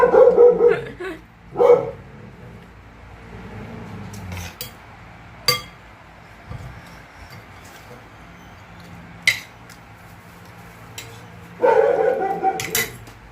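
A dog barks a few times in short, loud bursts spread across the scene, with clinks of dishes and faint background voices in a home kitchen.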